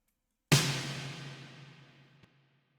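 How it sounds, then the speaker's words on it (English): A layered snare drum sample, a 505 snare stacked with a snap, plays as a single sharp hit that rings out in a long, steady decay, with a faint click near the end. "layering it with a 505 snare to add a bit more of that kind of fundamental frequency"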